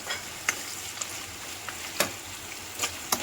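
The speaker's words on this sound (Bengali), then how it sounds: "আদা রসুনের পেস্ট দিয়ে দেবো দিয়ে ভালো করে নাড়াচাড়া করব" Ginger garlic paste and vegetables stir-frying in a pan for restaurant-style chilli chicken, with a steady sizzle broken by sharp scrapes and knocks of the spatula.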